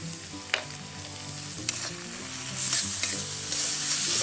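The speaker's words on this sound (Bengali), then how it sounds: "আমি ভালো করে ভেজে নেবো মশলাটা" A ground spice paste of ginger, garlic, cumin and dried red chilies with turmeric and salt sizzles steadily in a pan for a banana flower curry, with occasional utensil taps and the frying swelling louder midway.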